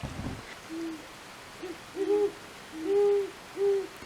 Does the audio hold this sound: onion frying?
no